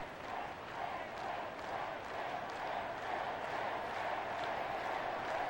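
A stadium crowd cheers in the baseball game MLB 11: The Show, a soft, steady roar of distant fans that swells slightly and never breaks, with no other clear sounds.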